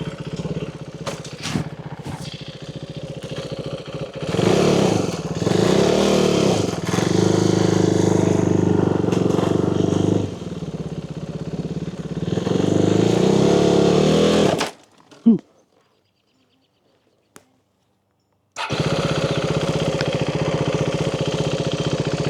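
A motorcycle engine revs hard as the rider tries to pop a wheelie, loud throaty surges rising and falling, then cutting out into a brief silence before the engine idles again.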